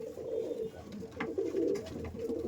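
Breeder pigeons cooing in a loft, a steady run of low, throaty coos repeating close by with no voices over them.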